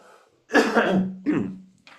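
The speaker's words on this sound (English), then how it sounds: "I got to cough one more time." A man coughs close to the microphone: one long harsh cough followed by a shorter second one, with a quiet breath before and after and no other sound.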